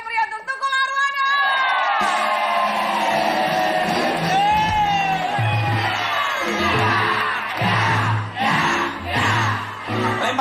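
A studio audience on an Indonesian television talk show whoops, yells and cheers loudly, a dense crowd roar that swells and dips over ten seconds, mixed with music and voices.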